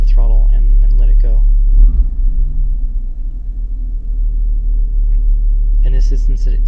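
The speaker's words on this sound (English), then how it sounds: "So now watch how this acts when we blip the throttle and let it go." A car engine's throttle is briefly blipped, then the revs settle back toward idle, with a steady low engine rumble throughout and someone talking over the start and end.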